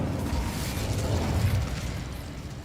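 An Incendio fire spell cast in the video game Hogwarts Legacy gives a brief, dull, rumbling whoosh and burst of flame that swells and then fades away. No voices are heard.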